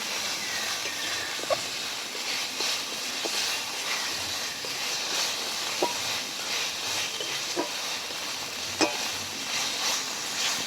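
Spices and slit green chillies stir-fried in a pan for ridge gourd chicken, a steady close sizzle and hiss with occasional scraping stirs, no talking.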